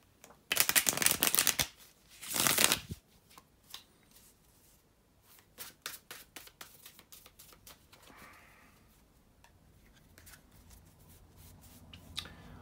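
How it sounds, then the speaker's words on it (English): Tarot cards being shuffled by hand come in two loud riffling bursts, then softer, irregular card taps and slides, close up and with no talking. "bear with me just a couple of seconds, guys, and to shuffle the tarot cards"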